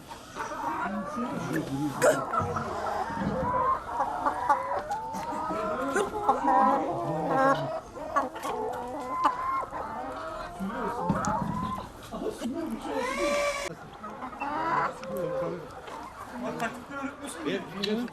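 Chickens clucking and squawking around the yard, with people chattering over them throughout.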